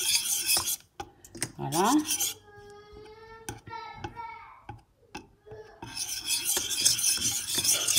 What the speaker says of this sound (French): je mélange bien pour pas avoir de grumeaux